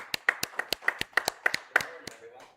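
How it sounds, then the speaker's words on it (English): Close, crisp claps in an even rhythm, about six per second, from a small group welcoming a speaker at a morning livestream event, tapering off after about two seconds. "Let's give a warm round of applause for Ron."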